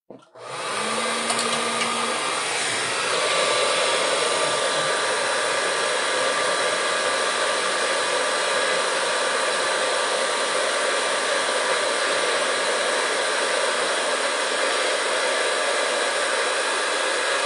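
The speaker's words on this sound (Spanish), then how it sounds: "voy a poner la secadora aquí y voy a secar un poquito los ojitos" A hair dryer switches on and blows steadily at close range to dry paint on the eyes of a small craft pig figure, a loud continuous rushing hiss with no talk over it.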